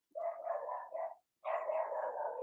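A dog barks in two sustained bursts heard from indoors with the door closed, muffled and moderately distant, separated by a brief pause.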